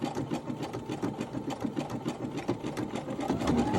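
A Brother Innovis 15 sewing machine runs a stitch, its needle mechanism chattering in a fast, steady, close-up rhythm with a slight rise in level toward the end.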